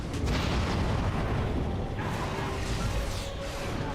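An explosion in the video game Dragon Age: Origins booms loudly with a deep rumbling burst, then a second blast follows about halfway through, each fading into lingering low roar.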